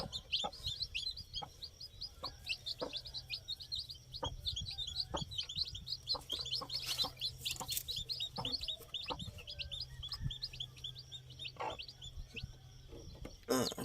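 Young chicks peep in a rapid, high chorus while being taken down from the nest, with scattered clucks, soft knocks and rustling close by throughout.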